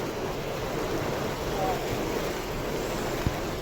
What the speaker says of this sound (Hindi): नदी का जलस्तर और बहाव अचानक इतना बढ़ गया कि नदी किनारे बना एक मकान कटाव का सामना नहीं कर सका और कुछ ही पलों में पानी के तेज बहाव में बह गया